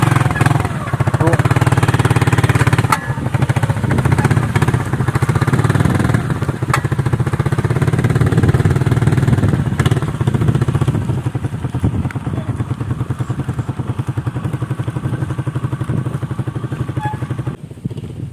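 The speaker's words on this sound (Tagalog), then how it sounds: "Ang motor ni Sherwin tora dato bilin kay grabe ka danlog dana sa bakilid." A motorcycle engine runs continuously with a steady rumble and some clattering as it rides along a slippery slope, loud and close throughout.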